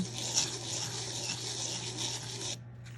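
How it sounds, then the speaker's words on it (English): Steady rasping scrape of a metal bezel's walls rubbed in circular motion on 320 grit sandpaper for a jewelry cabochon setting, continuous and close, stopping abruptly near the end. "sand the walls to try to get them to be a little bit shorter"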